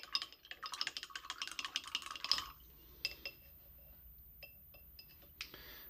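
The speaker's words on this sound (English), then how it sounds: "Hopefully the water and the glass tapping is not too much." Painting a heart in blacklight paint for close-miked binaural ASMR, with rapid, bright clinks of a brush tapping a glass and swishing in water, then a few isolated taps after a pause.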